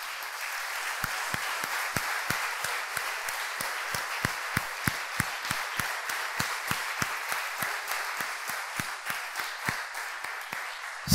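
A church congregation applauds steadily and at a fair distance, a dense wash of many hands with sharper individual claps standing out in a regular pattern throughout.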